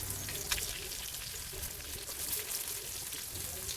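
Sardine pieces fry in hot oil in a pan, giving a steady, close crackling sizzle with dense spitting pops that runs throughout without pause.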